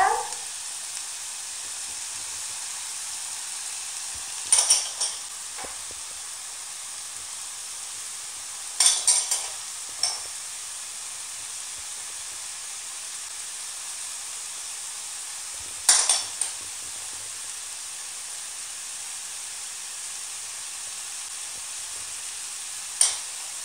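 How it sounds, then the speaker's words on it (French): Minced meat with garlic and spices frying in two pans for mhancha with kefta, a steady soft sizzle throughout, broken by a few brief clusters of utensil clinks and stirring, with no talking. "je fais revenir les 2 poêles jusqu'à ce qu'il n'y ait plus d'eau"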